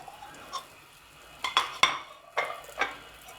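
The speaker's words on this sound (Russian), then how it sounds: "Сковородка раскалена. Масло вниз. Масло вниз. Жарится." Food frying in oil in a hot pan, a soft continuous sizzle broken by several sharp clinks and scrapes of a utensil against the pan, no talk.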